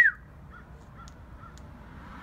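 A single bird calls once, sharp and fairly close, followed by a few faint distant calls over quiet outdoor background near a tadpole pond.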